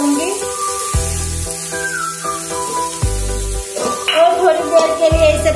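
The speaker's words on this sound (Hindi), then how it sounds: "इसे पकाऊंगी जब तक ये हमारी प्याज थोड़ी सी गोल्डन ब्राउन तक हो ना जाए।" Onions cooking in pav bhaji masala in a pan give a steady loud sizzle with whistling, ringing tones over it and a few low thumps, while someone talks over the cooking.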